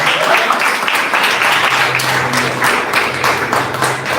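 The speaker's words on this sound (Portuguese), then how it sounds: "Palmas para Jesus." A church congregation claps and applauds continuously, a dense steady patter of many hands at close range, with faint voices underneath.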